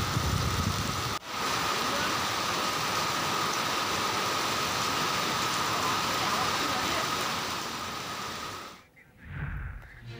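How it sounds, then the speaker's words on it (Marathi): Heavy unseasonal rain with strong wind in Nagpur, a loud dense continuous downpour hiss that cuts briefly near the start and fades out toward the end. "शहरातील अनेक भागात जोरदार पाऊस सुरू आहे"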